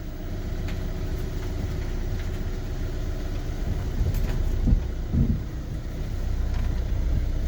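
Engine of a VW Caddy with a traction-control fault, droning steadily as the van is driven on a test run, a continuous low rumble with a few brief bumps and rattles from the road, no talking.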